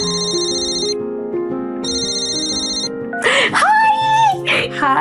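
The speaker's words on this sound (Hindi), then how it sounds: "नव्या टैक्सी रुकने का वेट कर ही रही थी कि तभी उसकी दादी का फोन आया।" A phone ringtone plays repeated bright melodic bursts for an incoming call, close and loud over a soft music bed, followed by a voice.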